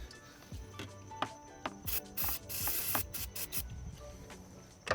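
Throttle body cleaner sprayed onto a car's throttle body, several short close hissing bursts of aerosol separated by brief pauses, mixed with light rubbing and handling noises.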